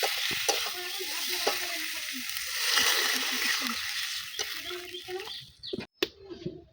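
Water goes into a pan of frying lentil-fritter curry, setting off a steady loud sizzle with stirring clatter, then the hiss breaks up and fades near the end; a voice speaks briefly.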